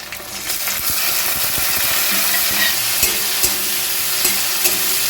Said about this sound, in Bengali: দেখুন হালকা করে একটু নেড়ে চেড়ে নিচ্ছি যাতে টমেটোটা খুব ভালো করে নরম হয়ে যায়